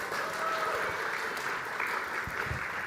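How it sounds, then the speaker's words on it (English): A congregation at a Disney-themed Shabbat service applauds Minnie Mouse with steady, moderately distant clapping that holds through the short stretch, with no voices heard. "Round of applause for Minnie Mouse here"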